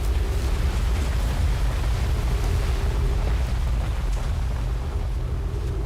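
A grav cannon in the video game Outer Wilds gives off a loud, steady low rumble, a continuous roaring drone with a faint humming tone layered on top, holding level for about six seconds with no voices.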